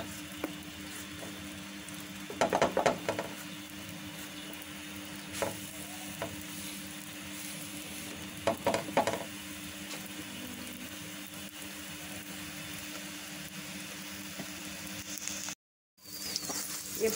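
Paratha cooking with ghee on a hot griddle, giving a steady soft frying sizzle throughout with a few brief louder clatters and stirring scrapes, no talking.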